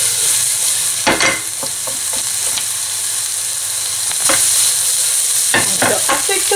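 Vegetables stir-fry in a hot pan with a loud, continuous sizzle, broken by several sharp bursts as the pieces are tossed and stirred.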